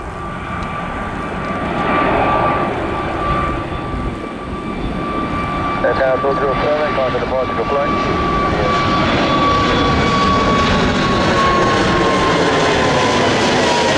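An Air Canada Airbus A220-300 jet takes off, a loud broad engine roar with a sustained high whine building and holding throughout, with people talking over it.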